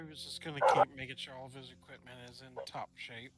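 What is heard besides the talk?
dog barking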